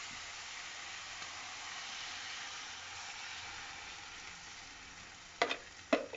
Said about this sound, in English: now we're going to add the vegetable stock